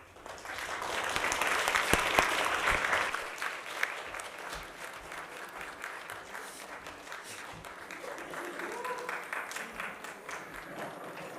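A church congregation at a Sunday morning service applauds newly appointed deacons. A loud burst of clapping fills the first few seconds, then falls to lighter, scattered clapping with a few voices in the background.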